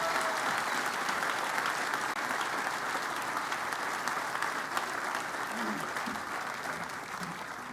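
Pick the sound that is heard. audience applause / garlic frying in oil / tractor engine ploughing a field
audience applause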